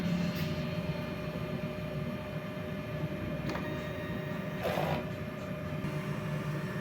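A DTF printer runs a head cleaning cycle, a steady mechanical hum with a continuous drone and a few brief clicks and swishes from the print head mechanism, heard up close with no speech.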